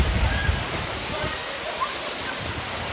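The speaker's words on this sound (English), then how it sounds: "We made it to the waterfall." Constant broadband rush of a waterfall pouring nearby, steady and enveloping with a few low thumps early on; no talking.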